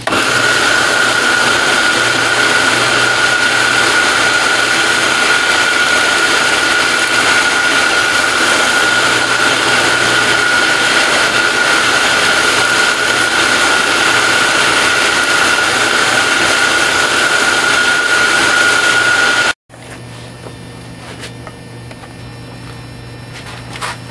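A leaf spring Bowie knife blade is sanded lengthwise with 320 grit abrasive, giving a steady, loud machine roar with a sharp whine that runs unbroken for about twenty seconds and then stops abruptly, leaving quieter room noise.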